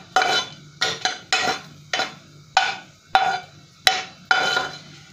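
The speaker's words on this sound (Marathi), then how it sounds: "लवंगा तडतडायला लागलेल्या आहेत।" Eight cloves crackle in hot ghee in a pan while amla syrup is being prepared: sharp, separate bursts of sizzling pop up roughly every half second, close and fairly loud, with no voices.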